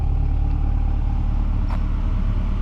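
2022 Chevrolet Corvette C8R edition, number 825 of 1,000 with Z51 package, driving in tour mode: a steady, loud low engine drone with road rumble throughout, no voices.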